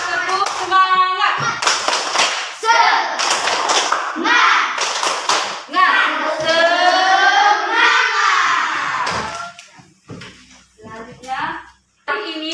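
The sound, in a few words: class clapping rhythmically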